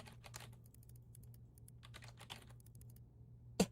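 Soft, rapid computer keyboard typing clicks from the Desktop Explorer game, faint and close over a low hum, ending with a sharper single click.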